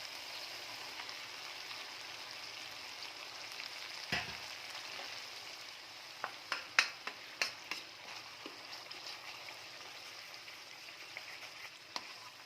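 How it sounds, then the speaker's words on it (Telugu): Whole cloves, cardamom and cinnamon fry in hot oil with a steady close sizzle, a sharp crackle near the start and a burst of small pops midway. "అది పచ్చి వాసన పోయేంతవరకు ఫ్రై చేసుకోవాలన్నాను కదా"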